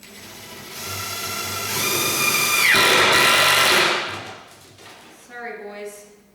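A small 12-volt DeWalt drill whirs as it drives screws, its pitch rising as it spins up and falling as it stops, followed by a brief second burst, close and loud with no voices.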